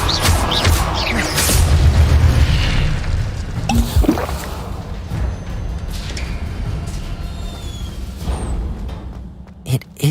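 Incendio fire spell cast in a Hogwarts video game, a string of heavy booms and crashes, strongest in the first few seconds, then sparser bursts with game clatter fading toward the end.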